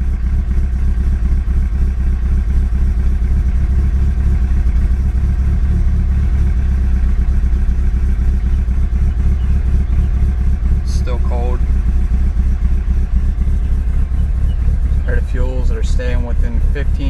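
An Evo 8 with a 2.3L engine on E85 idles after a cold start, a loud, even, steady drone that never hunts, with brief voice fragments over it.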